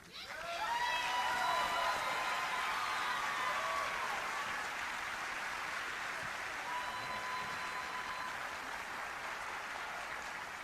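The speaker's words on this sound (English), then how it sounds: "please give a round of applause to this year's Staff NCO Marine Musician of the Year, Staff Sergeant Terry Kopetsky" Concert audience applauding for the Staff NCO Marine Musician of the Year at a Marine Corps Christmas concert: a steady, full wash of many hands clapping, sustained and fairly even for about ten seconds with no voices over it.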